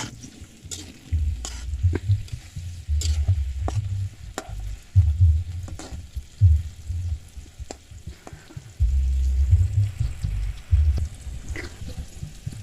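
A spoon stirring fried jengkol with sweet soy sauce in a pan, giving repeated scraping strokes over a steady sizzle and crackle of frying, close and fairly loud with no talking.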